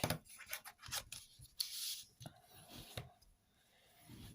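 A paper trimmer slices through greeting-card stock in a few short, crisp cutting strokes with light rubbing and sliding of the card between them, close up and without talk.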